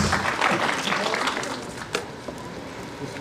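Applause from an audience at a NEET student felicitation ceremony, strongest at first and then thinning into scattered claps, with a few sharp individual claps toward the end.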